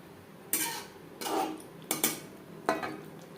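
Boiled potatoes being stirred in a pan over a medium gas flame for a vegetarian potato and paneer curry, heard as four distinct scraping clinks of a utensil against the pan with quiet gaps between them.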